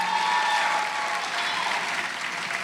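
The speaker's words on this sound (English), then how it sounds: "Let's give another round of applause." Sustained audience applause at a senior women's pageant in DC, a steady dense wash of clapping from a crowd filling the whole stretch with no talk over it.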